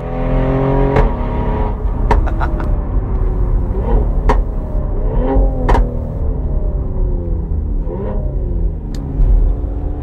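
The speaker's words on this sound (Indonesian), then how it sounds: "itu ada letupan-letupan ketika kita berpindah gigi, baik pindah gigi ke atas atau pindah gigi ke bawah" A 2019 Mercedes-AMG GLE 43 Coupe with a twin-turbo V6 revs through gear changes, its engine note rising and falling with sharp exhaust pops and crackles on each shift, loud and close.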